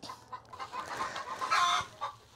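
Several chickens cluck and chatter nearby in quick, uneven bursts, with one louder squawk standing out midway.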